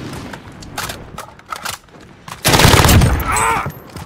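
Automatic and burst gunfire from a Halo multiplayer match, with scattered shots early on building into a loud, dense burst of sustained fire near the end.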